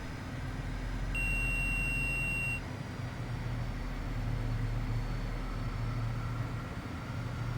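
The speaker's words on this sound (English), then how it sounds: "A loud beeping sound." A steady electronic beeping alert sounds in the cockpit of a Boeing 777 flight simulator, a thin high tone lasting about a second and a half over the constant hum of the aircraft cabin and engines.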